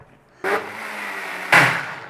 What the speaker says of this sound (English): And we're going to blend.